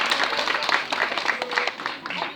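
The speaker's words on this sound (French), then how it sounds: "le public d'ailleurs applaudit" A magic show audience applauding, a lively patter of many hands clapping at moderate level, with a voice talking over it.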